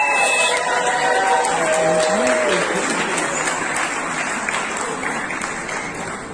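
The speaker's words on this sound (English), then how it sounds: "he's walking across the stage and there's people clapping" An audience claps steadily and loudly for a graduate crossing the stage at a ceremony, the applause slowly easing off toward the end amid faint crowd murmur.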